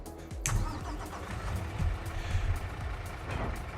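A truck engine in the farming video game Farming Simulator 22 cranks and catches, then settles into a steady, moderately loud idle rumble that carries on to the end.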